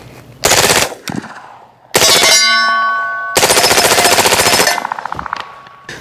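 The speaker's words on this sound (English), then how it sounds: "Let's go through another mag." Aero Precision EPC 9 AR9 pistol-caliber carbine firing through a magazine at steel plates: loud, rapid bursts of shots with sharp metallic pings and ringing from struck steel between strings, close and outdoors.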